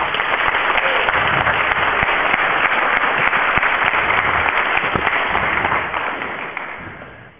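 A community talk audience bursts into loud, dense applause, many hands clapping continuously at close range before the sound tapers off toward the end.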